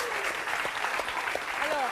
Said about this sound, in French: Ah oui, on peut les applaudir.